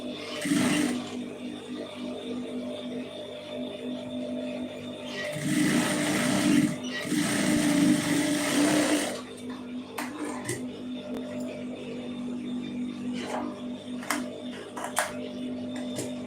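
A sewing machine stitches a folded blouse hem in two close bursts of steady, rapid whirring, with a constant low hum running throughout.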